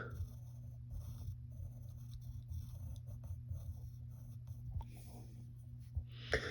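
A pencil drawing on paper, with soft, faint scratchy strokes over a low steady hum, quiet and close.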